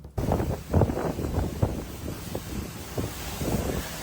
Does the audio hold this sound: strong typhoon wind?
yes